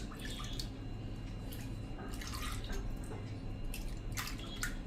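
Spoonfuls of unskimmed full-fat milk are scooped out and poured, giving a few faint, quick liquid drips and splashes spaced over a few seconds with no talking.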